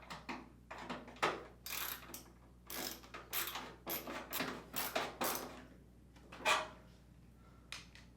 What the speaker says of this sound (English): reinstall the screw on the bottom of the front panel